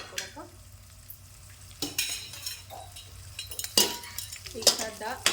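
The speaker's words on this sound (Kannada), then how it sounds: "ಉಳ್ಳಾಗಡ್ಡಿ ಮೆಣಸಿನ್ಕಾಯಿ ಮತ್ತು ಫ್ರೈ ಆಗುತ್ತೆ" Chopped onions and green chillies frying in a pan for palak pulao, with a steady sizzle broken by sharp stirring scrapes and metal clinks of a spoon against the pot, close up and without talk.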